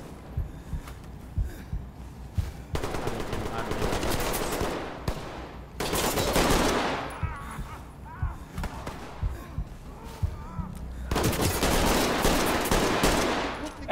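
Bursts of gunfire in the tactical shooter Ready or Not, several loud rapid volleys separated by quieter gaps, with voices talking in between.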